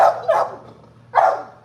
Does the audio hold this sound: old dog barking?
yes